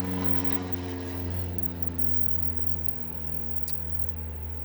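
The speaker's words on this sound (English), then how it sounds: "and of course there comes the airplane." Propeller airplane flying overhead outdoors: a steady low droning hum with a strong engine tone, holding fairly even before easing slightly, with a couple of faint clicks and no voices.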